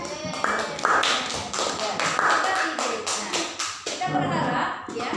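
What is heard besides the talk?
children clapping hands in rhythm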